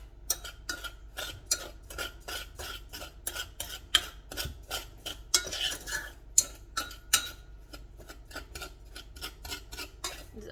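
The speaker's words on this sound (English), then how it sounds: "you want to mix this flour and sugar and cocoa together" A utensil stirs flour, sugar and cocoa together in a bowl, making quick repeated clinks and scrapes against the bowl in an uneven rhythm. The sound is close and fairly quiet, and no one talks.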